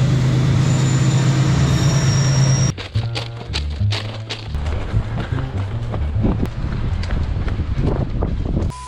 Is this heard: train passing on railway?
yes